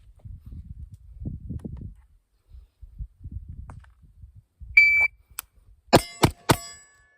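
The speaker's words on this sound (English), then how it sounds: "ZOHAN sent me the shot timer and it seems to be working great" A ZOHAN shot timer gives a sharp electronic beep, followed by a few loud gunshot-like cracks in quick succession, after a stretch of low muffled thumps and rustling.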